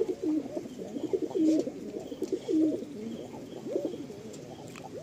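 Pigeons at a loft as a female and male pair is released, giving steady soft cooing calls that repeat throughout, fairly close and quiet with faint background noise.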